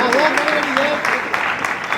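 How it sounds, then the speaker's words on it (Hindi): An audience at the Surjhankar Mumbai Cinema Award 2022 ceremony applauds in a steady wash of clapping, with a voice speaking over it throughout. "जोरदार तालियों के साथ।"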